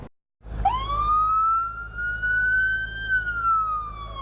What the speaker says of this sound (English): the sound of sirens and the sight of flashing lights